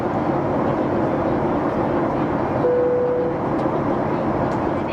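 Steady, loud cabin roar of a Boeing 737-8 MAX descending through cloud toward Montreal's Trudeau Airport, a constant engine and airflow drone with a faint tonal hum partway through.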